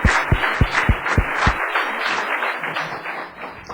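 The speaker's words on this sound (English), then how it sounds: "Please, let's give them a round of applause." At a town council meeting, a room of people breaks into applause, beginning with several sharp, distinct claps nearby and then settling into a softer, scattered patter that fades out.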